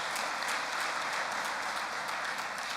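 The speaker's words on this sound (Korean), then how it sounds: "여러분 다시 한번 축하의 박수를" A church congregation claps together in sustained applause during a Sunday worship service, a dense, steady wash of many hands filling the room without a break.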